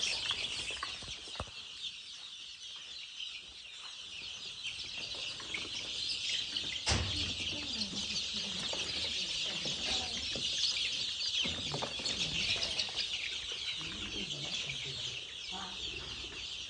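Free-range village chickens cluck and call intermittently nearby, mixed with chirping birds and a faint hiss of outdoor background noise.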